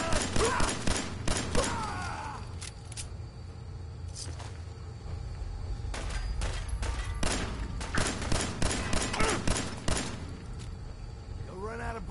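Rapid bursts of gunfire from the video game Fallout 4 crack out in clustered volleys over a low rumble, pausing briefly midway before more shots ring out, with a voice talking intermittently underneath.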